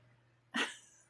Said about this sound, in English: My dog is sneezing.